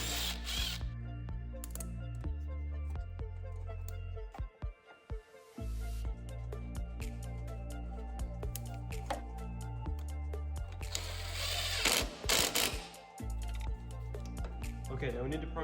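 Ratcheting and clicking of tools as the fuel filter retaining band is unbolted on a Kubota ZD1211 diesel mower, with steady low mechanical hum and repeated close ratchet clicks throughout.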